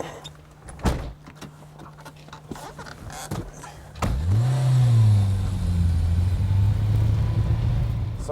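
A Citroen Saxo small hatchback starts up and pulls away: a few door and cabin clunks first, then the engine catches and rises into a steady nearby hum as the car drives off.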